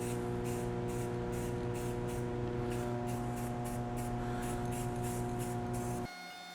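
Rust-Oleum 2X Ultra Cover gloss apple red spray paint hisses steadily from a 12 oz aerosol can in one continuous close burst for about six seconds, then cuts off into a quieter background hum.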